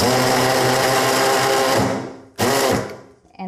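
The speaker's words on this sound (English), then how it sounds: "if you don't have a mini chopper like this, you can definitely do this by hand" An electric mini chopper whirring loudly as it dices washed celery, a steady motor drone that winds down, then a second short burst that also fades.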